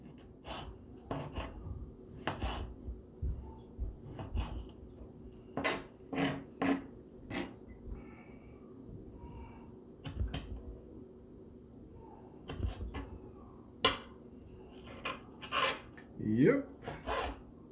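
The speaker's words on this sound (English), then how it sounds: "these are small tomatoes, so it shouldn't take me more than maybe 2 minutes to chop it off" Knife chopping small tomatoes on a board while preparing pork tortillas, a series of soft, irregular close taps and scrapes with pauses between bursts, no talking.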